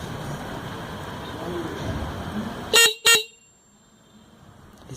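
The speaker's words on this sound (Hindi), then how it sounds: "इसकी साइज कम है लेकिन आवाज़ बहुत ही तेज़ है।" Two short, loud honks from a new, small replacement horn fitted to a scooter in place of an old Pulsar horn, sharp and close, rising over a dull background hum before near silence.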